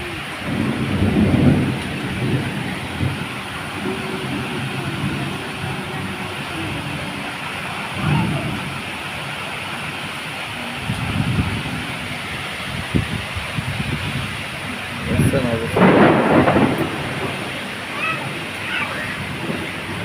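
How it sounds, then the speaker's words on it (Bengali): Heavy rain pours steadily over a market area in Dhaka, with several deep rumbles of thunder rolling in at intervals, loud and broad, while voices talk faintly beneath the downpour. "অনেক প্রচুর বৃষ্টি।"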